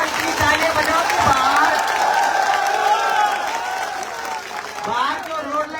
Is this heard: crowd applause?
yes